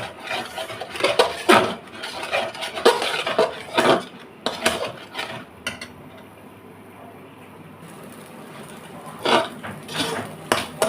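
Egg halwa being stirred in a pan over medium-low heat, a spoon or spatula scraping and clinking against the metal in irregular bursts, with a quieter stretch midway before the scraping resumes.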